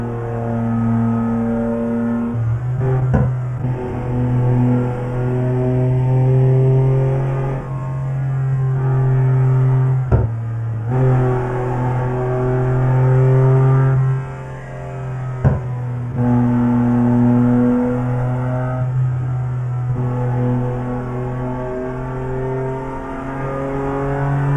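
An old BMW engine in Euro Truck Simulator 2 drones steadily under acceleration on a Turkish highway, a loud continuous harmonic hum that rises and shifts with brief gear-change dips, with no talking.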